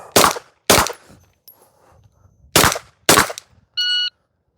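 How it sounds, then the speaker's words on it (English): Handgun shots fired at targets during a shooting drill: four sharp, loud reports in two quick pairs with a short pause between, followed by a brief electronic beep. "So I want out of the holster 2 rounds on target standing, drop to a kneeling, 2 more rounds on target kneeling."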